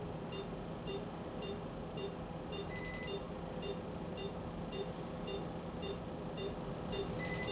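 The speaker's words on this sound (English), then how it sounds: "as you hear the beep, that's letting us know that we're reaching our" A CT3Plus CoolBreeze skin-cooling device gives short, regular electronic beeps about every half second over a low steady hum, with a brief higher double tone twice, as it reaches target temperature.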